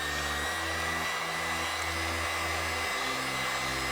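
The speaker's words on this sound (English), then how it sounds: "I'm gonna hit that section with the heat gun" A heat gun blows a steady, loud whooshing roar over silicone paint on a large open cup, with slight shifts in pitch as it moves across the surface, alone with no talking.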